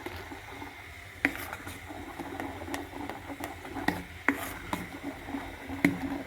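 Idli batter is beaten in one direction in a bowl, giving quiet, irregular tapping strokes against a soft background hiss.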